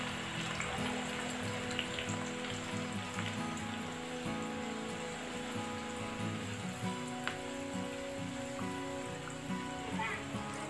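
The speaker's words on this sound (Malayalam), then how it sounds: "ഇതിലേക്ക് നേരത്തെ അരിഞ്ഞിരിക്കുന്ന സവാള ഇട്ടെടുക്കുന്നുണ്ട്." Sliced onions frying in hot coconut oil for a Kerala-style chicken biryani, a steady close sizzle and crackle that continues without a break, with faint talk now and then.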